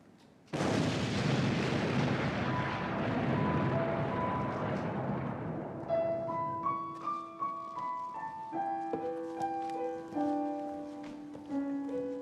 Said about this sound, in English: I wake to the sound of distant explosions